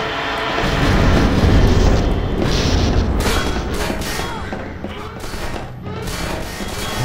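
Loud, dense gunfire and booming blasts from Half-Life 2 Episode 1, rumbling continuously with sharp bursts layered over a heavy low roar.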